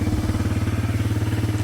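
A Suzuki DRZ125 dirt bike engine idles steadily up close, with a fast even thumping pulse and a slightly high idle speed, alone without talk.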